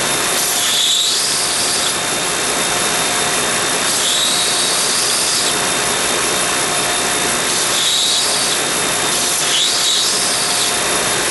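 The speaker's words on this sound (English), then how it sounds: "Let's take it over to my belt sander." A small ball peen hammer head with a loose head is ground flat on a belt sander, giving a steady loud whine with three or four harsher grinding surges as the metal is pressed against the belt, no talk.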